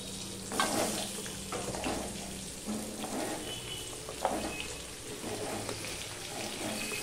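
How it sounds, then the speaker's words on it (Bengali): Potato, pointed gourd and pumpkin pieces frying in hot oil, a continuous close sizzle with intermittent clatters and stirring bursts as the vegetables are tossed in the pan. "এবার সেই তেলের মধ্যে আমি এই বাকি সবজিগুলো দিয়ে দেবো"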